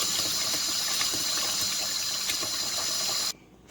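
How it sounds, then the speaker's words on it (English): Rice rinsed in water to remove starch for a Jamaican glazed pigtail dish: a steady rushing, splashing stream of water running continuously, cutting off abruptly near the end. "So I'm going to wash my rice."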